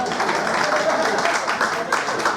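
A live audience claps steadily throughout, a dense wash of many hands at a Hindi business seminar, with faint voices mixed underneath.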